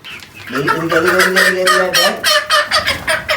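Frightened Brahma chickens with feathered feet give loud, close clucks and squawks in a rapid, agitated series, and a voice speaks briefly near the start.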